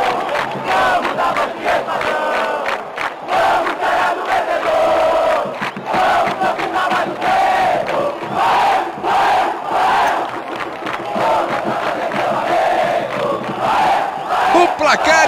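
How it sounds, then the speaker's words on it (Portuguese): A packed stadium crowd in the PES 2010 football game roars and chants after a goal in a Bahia versus Grêmio match, a loud continuous surge of cheering with rhythmic pulses throughout. "Que presente para esta torcida! Olha que festa linda!"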